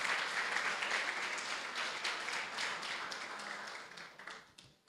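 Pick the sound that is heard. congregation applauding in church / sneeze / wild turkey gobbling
congregation applauding in church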